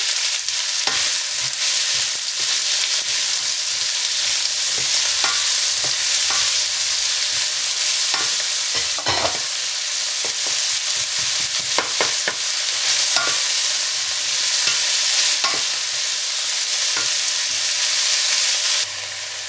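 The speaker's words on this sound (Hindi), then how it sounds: "मैं डालूंगी जो मैंने 4 प्याज काटे थे वो वाले, और इनको भूनेंगे" Four chopped onions frying in a pan for egg bhurji, giving a loud, continuous close-up sizzle with crackles and the occasional scrape of stirring throughout.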